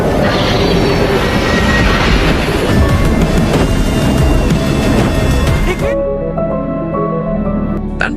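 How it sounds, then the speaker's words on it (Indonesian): Train rolling in on an adjacent track in a film scene, a loud continuous rumble of wheels with metallic clatter and squeal, the roar dropping off sharply toward the end as the cars pass. "sebuah kereta lain muncul di rel sebelah"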